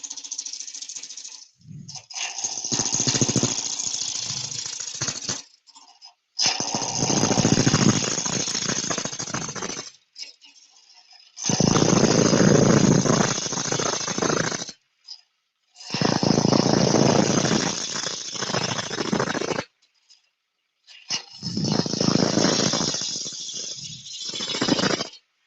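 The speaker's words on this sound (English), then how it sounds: "It is a roughing cut, and it can remove a lot of timber very quickly." A wood lathe tool takes a roughing cut in timber, five loud bursts of harsh rattling chatter lasting several seconds each, separated by short pauses.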